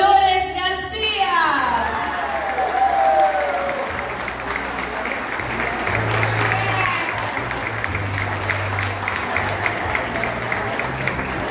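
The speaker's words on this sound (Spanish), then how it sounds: "con un fuerte aplauso también homenajeamos" An audience applauds to honor a council member at a civic gathering; the clapping swells after a brief musical sweep and carries on steadily, with a low voice speaking faintly beneath it.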